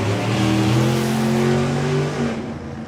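A Super Gas drag race car makes a loud, sustained engine roar at a European drag racing finals, the pitch holding steady under a throttle stop before the sound fades slightly toward the end.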